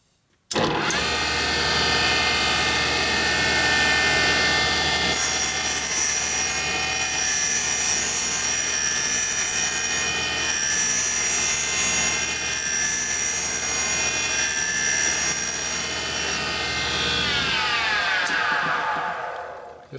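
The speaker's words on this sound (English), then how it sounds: "I'm going to do a 30-degree back cut on this one." Valve refacing machine cutting a 30-degree back cut on a valve from a 1958–1960 Harley-Davidson Panhead cylinder head, a loud steady whining motor hum with high grinding tones that winds down at the end.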